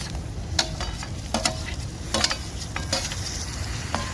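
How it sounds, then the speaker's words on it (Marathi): Chopped tomatoes with masala sautéed and stirred in a home kitchen pan for kohlyachi bhaji, a steady close sizzle with several sharp scrape-like taps of a spoon against the pan spaced through it. "तर आता मी परतून घेते टमाटर"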